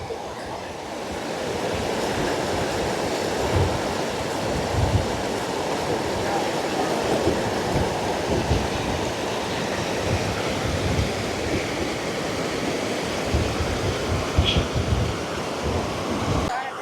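Floodwater rushes over a bridge broken in two in Mullaitivu, a steady loud roar of turbulent water heard close, continuous throughout, with possible faint voices beneath.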